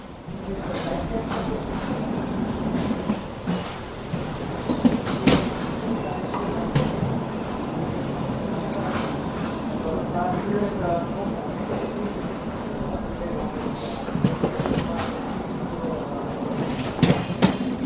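An assembly line carrying a KW suspension unit to the next station gives a steady rumbling, rattling conveyor noise with scattered clanks and knocks throughout, fairly loud and continuous, with no talk over it.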